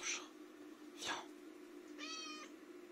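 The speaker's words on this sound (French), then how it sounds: "Oui, mon chat." A cat meows indoors in a quiet room: a short faint cry, a sharper mew, then a longer drawn-out meow, with a low background hum.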